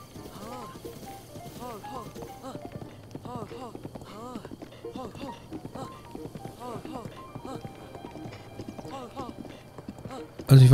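Rhythmic horse hoofbeats in The Legend of Zelda: Breath of the Wild clip-clop steadily throughout while a voice talks over them, ending in a sudden loud burst.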